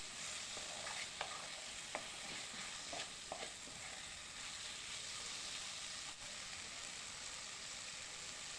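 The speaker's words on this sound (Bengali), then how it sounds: "ভালো করে মিশিয়ে দেব সমস্ত মশলাগুলো।" Spices being stirred into a vegetable curry in a hot pan, a steady sizzle and frying hiss running throughout with a few soft scraping strokes of the spoon near the start, no talking.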